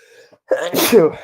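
A single sharp human sneeze bursts out close to the microphone after a brief quiet moment during a sports talk show.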